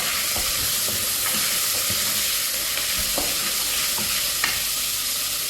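A spoon stirs rice and cooked liver in a pot, making soft scraping strokes over a steady sizzle and hiss of frying.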